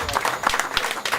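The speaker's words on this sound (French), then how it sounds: "Vous pouvez applaudir parce que c'est important." A conference audience applauds in a dense, steady wash of clapping, with voices mixed in beneath the applause.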